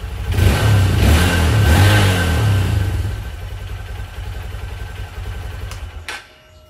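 A Honda CRF150L motorcycle with an upgraded exhaust revs hard nearby for a few seconds, then settles toward a lower, steadier note before cutting off.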